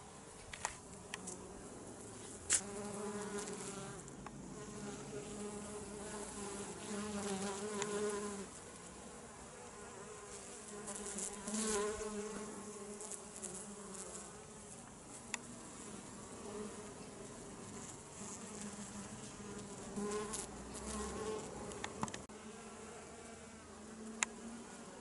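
Bees buzz steadily around hives and autumn aster flowers, a continuous droning hum of many insects with individual wingbeats rising and fading near and far.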